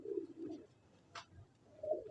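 A pigeon gives soft, low cooing calls close by, two murmured coos at the start and another at the end, with a brief faint rustle in the quiet between.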